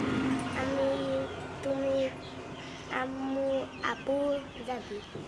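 Chickens cluck and call repeatedly nearby in short bursts, with people talking in the background on a farm.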